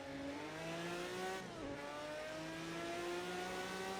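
A 7-liter V12 Jaguar XJR9-LM Le Mans race car in a VR driving sim drones steadily and loudly, its pitch climbing, dropping briefly on a shift, then rising again.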